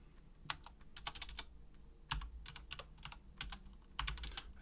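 Terminal commands are typed on a computer keyboard while setting up a Raspberry Pi 4, heard as close, quiet bursts of rapid key clicks with short pauses between groups of keystrokes.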